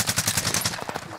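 Rapid machine-gun bursts from the RAAL MG in a Warzone match, a dense run of regular close shots filling the whole moment at steady loud volume.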